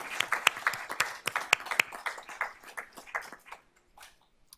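An audience at a school board of trustees meeting applauds the fine arts team: sparse, close, individual claps forming a short ragged round that thins out and fades toward the end.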